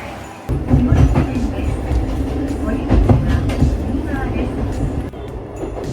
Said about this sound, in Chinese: 我要搭8点54分，然后这个就是它的一般电车的车厢，只有1节。